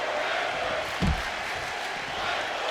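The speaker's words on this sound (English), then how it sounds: "The crowd here is appreciating the efforts of both these men" An arena crowd in the WWE 2K25 wrestling video game keeps up a steady, dense roar of cheering, with a brief thud from the ring partway through.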